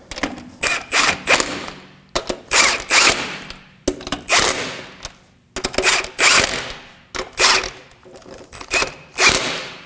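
Ratchet wrench snugging wheel bolts on an Acura MDX during front lower control arm replacement: a series of quick metallic clicking bursts in uneven spurts with short pauses, close and fairly loud.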